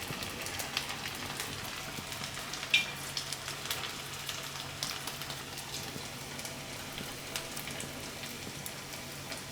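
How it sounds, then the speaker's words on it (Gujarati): Mamra vada, puffed rice fritters, frying in oil with a steady, fine crackling sizzle, moderately quiet and continuous, with occasional sharper pops and no talking. "બનાવતા જાઉં ને નાખતા જાઉં તેલમાં તળવા માટે."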